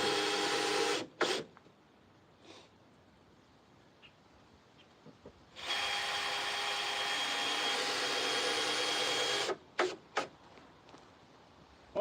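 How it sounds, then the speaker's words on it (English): A cordless power drill whirs in loud bursts while driving screws into a chicken coop, with short pauses between runs and quiet stretches in between. "You keep the friends company for 1 second while I put a few screws in this."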